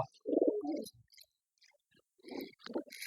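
Red and black pet pigeons give a few low, soft coos in short bursts separated by quiet gaps, close by, with faint higher chirps in between.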